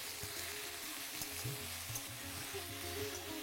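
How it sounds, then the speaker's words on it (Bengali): Potatoes and onions fry in a pan with a steady, close sizzle and crackle, interrupted by soft stirring scrapes and small knocks, with no talking. "তারপর পেঁয়াজের সাথে এটাকে আপনাদের ভালো করে ভেজে নিতে হবে।"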